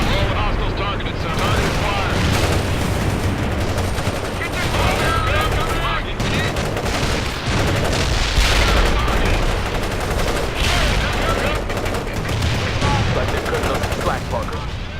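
Constant dense gunfire and explosions rage in a military strategy video game, a loud continuous battle din of rapid shots and booms throughout the whole stretch.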